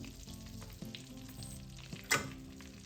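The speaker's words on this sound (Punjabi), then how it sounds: "ਘਿਓ ਨੂੰ ਆਪਾਂ ਹਲਕਾ ਜਿਹਾ ਗਰਮ ਕਰ ਲਿਆ ਹੁਣ ਇਸ ਵਿੱਚ ਆਪਾਂ ਬੇਸਨ ਪਾ ਦੇਵਾਂਗੇ" Gram flour (besan) tipped into lightly heated ghee in a kadai for pinni, giving a steady soft sizzle throughout with a brief louder scrape or splash near the end.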